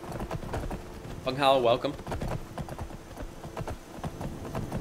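A horse's hooves clip-clop steadily while ridden in the Skyrim Wildlander game, close and even-paced, with a brief spoken greeting partway through.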